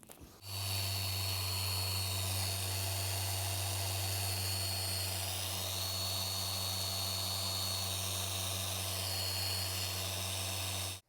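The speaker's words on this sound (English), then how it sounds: "Now we got to go ahead and polish this. So I'm going to start with the 3M rubbing compound" A machine polisher works 3M rubbing compound into heavily oxidized boat gel coat, giving a steady, loud, continuous whine with a low hum that starts abruptly and runs unbroken with no talk.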